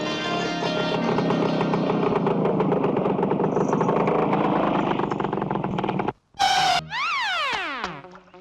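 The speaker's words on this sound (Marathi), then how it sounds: "सुहाना स्टार्ट कर रे जरा गेली गेली मोटरसायकल" A motorcycle engine drones steadily and close for about six seconds, cuts out briefly, then a falling whine trails off as it rides away.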